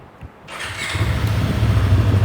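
A Kove 500 motorcycle with its stock exhaust fires up after a brief quiet moment, settling into a loud, close, steady engine rumble.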